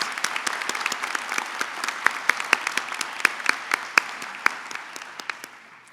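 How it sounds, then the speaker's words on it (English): Audience at a college graduation ceremony applauding musicians, a sparse, fairly quiet patter of clapping with several sharp, loud individual claps standing out near the listener, thinning out after about five seconds. "Let's give up one more round of applause for these amazing musicians."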